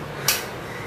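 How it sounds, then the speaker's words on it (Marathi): A single bright metallic clink as a lid is set onto a pot of boiling village-style dry chicken masala, a short near contact sound over a low steady background. "यावरती आता आपण झाकण ठेवूया"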